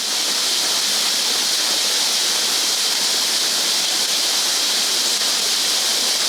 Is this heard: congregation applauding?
no